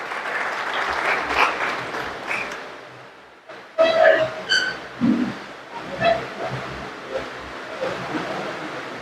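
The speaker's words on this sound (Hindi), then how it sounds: "मैं सभी से आग्रह करूंगा जोरदार तालियों की गड़गड़ाहट के साथ आदरणीय बंसल जी का स्वागत करने का करें" Audience applause at a traders' conference (Vyapari Sammelan) welcoming Rajya Sabha MP Naresh Bansal, a steady spread of clapping with a few louder bursts and some voices mixed in, carrying on throughout.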